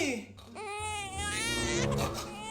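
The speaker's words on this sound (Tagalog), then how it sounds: "Baby, stop crying na." A baby cries loudly and close, wavering wails that rise and hold, with an adult voice briefly audible underneath.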